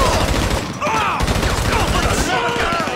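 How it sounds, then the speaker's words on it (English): Rapid bursts of gunfire during a prison-break heist in the video game Grand Theft Auto 5, dense and loud throughout, with shouting voices over the shots. "But where am I getting shot at?"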